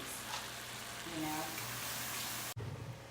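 Hot oil sizzling in a heating pan before cooking steak: a faint, continuous crackling hiss under talking, briefly cut near the end.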